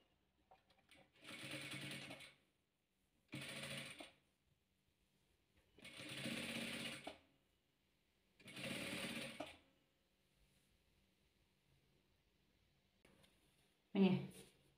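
A sewing machine joins red and white patches of a chessboard quilt in four separate whirring runs of a second or so each, with quiet pauses between and a short knock at the end.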